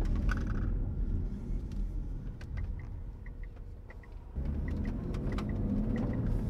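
A car cruising on the road at 65 miles per hour gives off a continuous low rumble of engine and tire noise, with a brief dip in level partway through and faint higher clicks over it.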